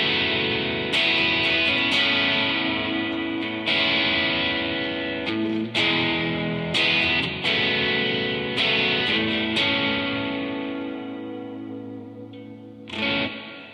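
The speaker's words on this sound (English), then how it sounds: "let's take a look at this Destination Overdrive reverb" Electric guitar played through a Destination Overdrive reverb pedal, distorted chords ringing out with a long washy tail, strummed repeatedly, no talking.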